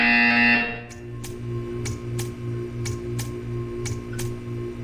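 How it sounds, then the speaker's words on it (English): A test chamber buzzer in Portal 2 sounds as a string of short, evenly spaced electronic pulses after a louder opening tone, over a steady low mechanical hum. "You will hear a buzzer."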